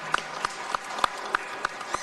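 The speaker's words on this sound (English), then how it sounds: "I want to give everybody a round of applause for participating tonight" Slow, evenly spaced claps sound at a Los Angeles Police Commission community meeting, about seven sharp hits falling roughly a third of a second apart. They stay fairly faint against a quiet room.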